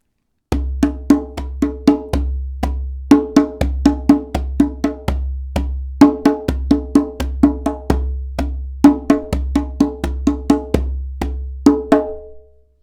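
A hand drum plays a syncopated rhythm of deep, booming strokes mixed with sharper slaps, close and loud, with no voices.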